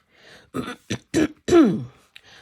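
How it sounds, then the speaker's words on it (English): Someone clears their throat several times in short, rough bursts, ending in a low grunting hem, close and fairly loud. "Sorry that I have to keep clearing my throat."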